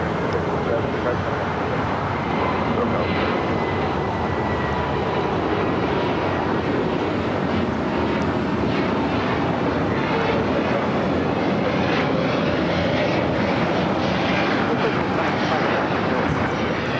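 A Philippine Airlines Boeing 777 moves across LAX toward the south side, with steady engine roar and airport noise throughout and people talking over it.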